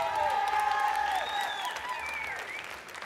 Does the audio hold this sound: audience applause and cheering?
yes